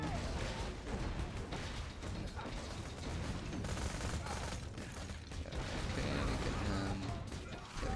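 Kerblaster gun from Borderlands 2 firing in repeated bursts amid a dense, clattering wash of game combat noise, with impacts and mechanical rattles throughout and the shots fairly loud and continuous.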